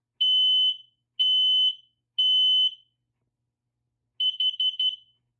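A smoke alarm under a test-button press sounds three long, piercing high-pitched beeps at a steady pace, then a quick burst of shorter chirps after a pause, loud and alone.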